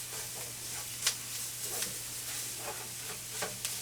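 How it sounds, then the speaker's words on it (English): Flour frying in a little oil in a pan while smothered ground beef patties are being made, heard as a steady soft sizzle and hiss with a few light scraping stir clicks, close up with no talk. "put you just a little bit more oil in there to be frying off that flour"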